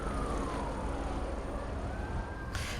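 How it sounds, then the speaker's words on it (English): A police siren in the video game Bloodlines 2 wails steadily in the distance, its pitch sliding slowly downward over a dense wash of background rumble. "you hear helicopters and sirens"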